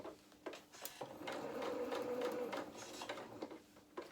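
Sewing machine stitching a jacket around a curve, a faint rapid mechanical whir that speeds up and holds steady, stopping briefly between bursts.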